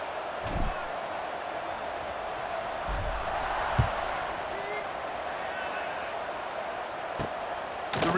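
A stadium crowd in a college football video game, Arizona State against Texas A&M, roars as a steady broad wash through the whole stretch with a few thuds and sharp hits on top.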